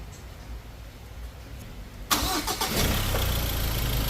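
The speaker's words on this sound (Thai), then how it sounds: "ตอนนี้เครื่องยนต์ก็สตาร์ตติดขึ้นมาแล้วนะฮะ" Quiet background gives way to a Ford Ranger pickup truck engine, just resealed for a leaking front cover, cranking and catching at once, then settling into a steady, loud idle nearby.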